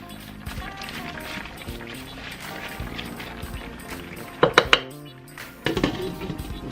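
A utensil stirs a chickpea, broccoli and spinach curry in a pot, with soft scraping, a few sharp metallic clinks against the pot midway and light clatter near the end.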